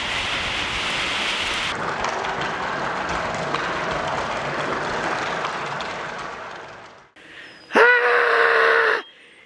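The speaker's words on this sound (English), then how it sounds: "all of a sudden the skies decided to open up and the rain came down. Monsoon rain!" A sudden heavy monsoon downpour roars as a loud, steady wash of rain, then thins out and drops away near the end, followed by a short, bright vocal outburst.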